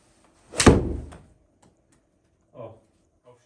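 A 5 iron strikes a golf ball with one sharp, loud crack, followed by a brief decaying ring and then a couple of faint, softer knocks.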